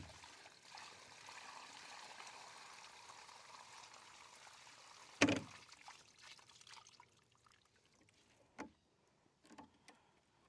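Water poured from a bucket into a garden planter at the front of a garage, a faint steady trickling stream that ends abruptly with a sharp knock, followed by a few quieter clinks.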